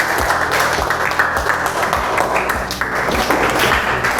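A classroom of students claps for a presenting group, continuous close applause with a steady dense patter throughout.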